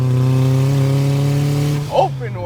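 A 400HP turbocharged Toyota MR2 with an open wastegate holds a loud, steady, buzzing engine tone up close, then drops away as a voice briefly cuts in near the end.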